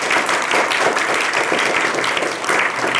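A studio audience gives dense, sustained applause for a few seconds, holding at a fairly loud, even level with a brief dip near the end.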